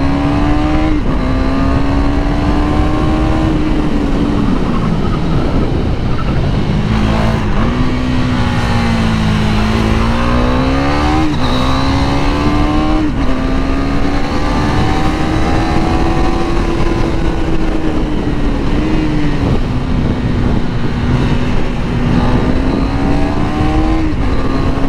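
A KTM 390 Duke fitted with an aftermarket exhaust and remap, its single-cylinder engine rising and falling through repeated revs and gear changes, loud and close throughout.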